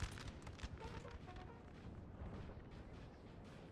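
Napoleonic-era cannon fire in a Napoleon: Total War multiplayer battle at Eylau, a dense, continuous rumble of overlapping distant booms and crackling volleys at low level.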